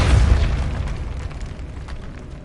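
Depulso spell blast in a video game: a loud, booming burst with deep rumble at the start that gradually decays over the following seconds.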